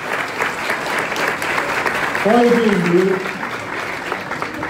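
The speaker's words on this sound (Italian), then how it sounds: "Questi sono tutti applausi per voi, ricordatevi gli applausi, eccoli qua." Applause from a crowd at a school event for young children, a steady dense patter of clapping that swells briefly in the middle while a voice speaks over it.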